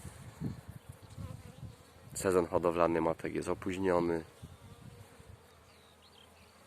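Steady honeybee buzzing at a hive hums low in the background while someone speaks over it partway through, the drone continuing faintly before and after.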